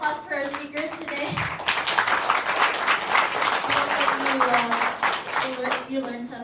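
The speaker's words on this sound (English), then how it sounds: "Let's give another round of applause for our speakers today." Warm applause from a seminar audience for the day's speakers swells to a dense, continuous patter, with voices talking over it at the start and end.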